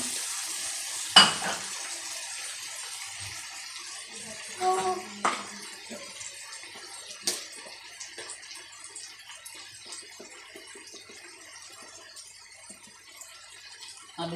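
Water poured into a pan of frying chilies for a mixed vegetable curry brings a burst of hissing sizzle, then a few clanks and stirring knocks as the sputter fades to a low, steady simmer.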